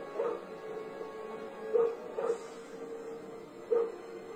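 A dog in a movie whimpers softly in several short, high whines spread over a few seconds, heard faintly under a low steady background hum.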